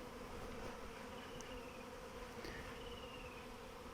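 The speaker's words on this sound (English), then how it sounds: "she's gently just trying to brush those bees away" Steady, faint buzzing of a swarm of bees being caught into a hive, a continuous hum with occasional individual bees passing closer; no voices.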